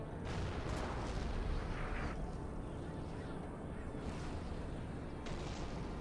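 Artillery guns booming in a Napoleon: Total War battle on the Egyptian campaign, a steady rumbling barrage of distant cannon fire heard faintly throughout without a break.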